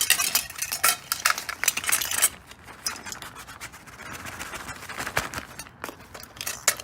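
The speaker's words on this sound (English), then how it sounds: "And then I have another set of tongs, a fork, spatula, all that stuff." Metal camping utensils such as tongs, a fork and a spatula clink, scrape and rattle against one another in quick irregular bursts, close by and fairly quiet.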